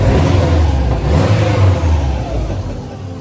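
A rebuilt Subaru WRX Impreza engine runs steadily in a workshop, a continuous rumbling idle with slight swells in revs, close and fairly loud, with no talk over it.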